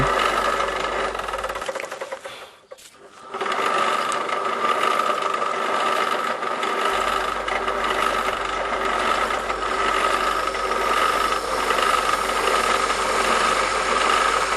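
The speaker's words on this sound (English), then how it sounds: "Drill the centre holes for the bolts to go." A power drill bores centre holes for bolts in a homemade portable router table, running as a loud steady whine with a rattling motor drone, pausing briefly near the start before starting up again and running continuously.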